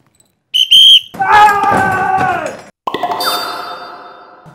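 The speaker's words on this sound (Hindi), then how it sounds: "स्टार्टिंग की सीटियां मतलब स्टार्टिंग की सीटी हम बताऊंगा" A competition judge blows a short, shrill starting whistle, followed by playful sliding and boing-like sound effects with pauses between them.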